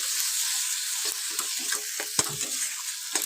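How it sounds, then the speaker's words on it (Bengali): Spice paste with cumin powder sizzles and crackles steadily in a hot pan while being sautéed for khichuri, with occasional sharp scrapes and knocks of a stirring spoon. "চলো বন্ধুরা, মশলাটাকে একটু কষিয়ে নিই ভালো করে।"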